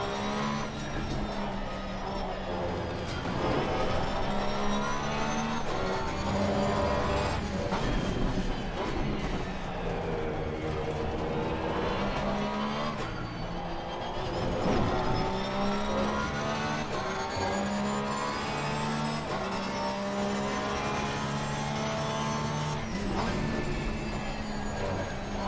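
An Audi race car in a racing video game at the Nurburgring roars steadily through gear changes and hard braking, the engine pitch rising and falling in sweeps. A commentator talks faintly underneath for the whole stretch.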